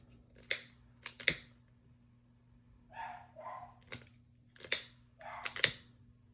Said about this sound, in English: I'm going to cut these 2 ends